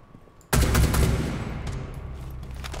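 Gunfire in Rainbow Six Siege opens with a sudden loud burst of shots after a quiet start, then a dense reverberating crackle that slowly fades over a few seconds.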